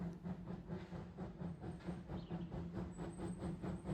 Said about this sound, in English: This train is hauled by a steam locomotive built in Poland